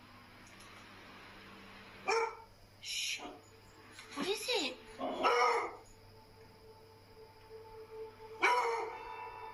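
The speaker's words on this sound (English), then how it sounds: "A petrified dog rushes to its owner as it growls and barks at something unseen." A frightened dog barks and growls in several short, sharp bursts spread across a few seconds, fairly close, while a person quietly speaks between them.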